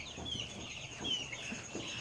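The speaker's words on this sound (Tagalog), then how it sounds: "So karon guys atong andamon ang mga manok no." Young Rhode Island Red and black Australorp chicks cluck and chirp softly in a cardboard box on a small farm, a steady low murmur of peeps running throughout without any voices.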